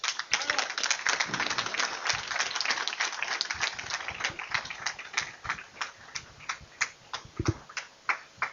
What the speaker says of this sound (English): So a big applause.